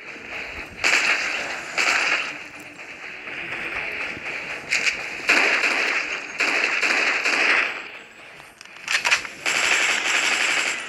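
Rapid automatic gunfire from a zombie-shooting video game comes in several sustained, loud bursts separated by short pauses, with no talk over it.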